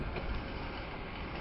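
A small Swiss mountain train on the line to Murren rumbles steadily and fairly loudly with no break.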